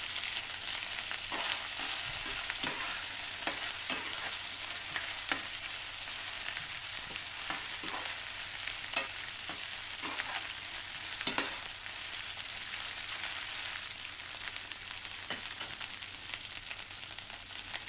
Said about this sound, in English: two teaspoons of cumin seeds, saute for 1 minute.